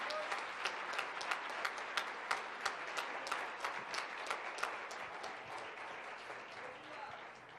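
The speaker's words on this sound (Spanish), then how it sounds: "Bueno, esas palmas son para Cristo," A church congregation claps in a steady rhythmic beat, roughly three claps per second, moderately distant and reverberant, fading slightly toward the end.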